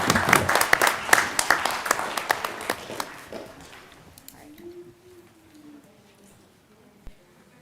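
Audience applause at a city council meeting, with a burst of brisk, loud clapping that thins out and fades to scattered claps within a few seconds, followed by quiet room murmur and a brief voice.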